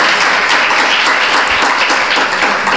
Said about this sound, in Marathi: त्यासाठी एक जोरदार टाळ्या होतील काकांसाठी